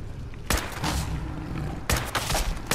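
Shotgun fire in Fallout 4: sharp, loud blasts roughly every second or so, including a quick pair near two seconds and one at the end, each with a short booming tail over steady background noise.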